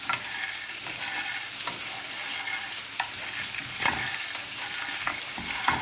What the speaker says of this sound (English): Continue shaking the pan until the two ingredients are mixed well and well cooked.